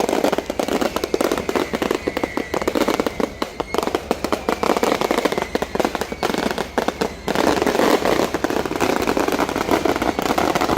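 Fireworks and firecrackers crackle and pop nonstop at a Catholic festival in Jaffna, a dense, loud barrage of bursts with crowd noise underneath.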